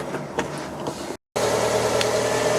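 A Fiat 500 idling steadily after an exhaust flex pipe and back box repair, a continuous low engine hum with broadband hiss, close and fairly loud, broken by a brief gap of silence.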